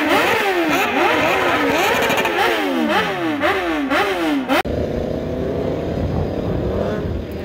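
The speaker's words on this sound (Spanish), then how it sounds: "la salida de las motos y la llegada." Motorcycles rev loud and close at the start of a street speed race in Cuba, with the engine pitch rising and falling through repeated gear changes. After a sudden cut, a steadier, duller engine drone carries on.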